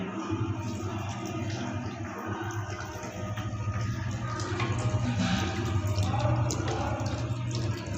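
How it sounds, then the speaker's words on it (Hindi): Water is poured into a pan of matar keema cooking with whole spices, salt, turmeric and red chili, giving a steady, moderate splashing flow over a background hum, with no talking. "पानी शामिल करेंगे।"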